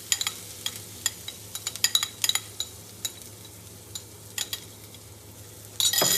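Grated coconut fries in hot oil with asafoetida for a Kerala sambar, a soft steady sizzle punctuated by sharp spoon clinks and scrapes. The sizzle surges loudly at the very end.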